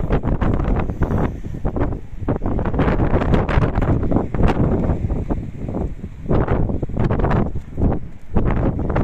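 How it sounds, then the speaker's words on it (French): Strong wind buffets the microphone at an open scenic viewpoint, with loud, continuous roaring gusts that swell and ease throughout. "il y a du vent"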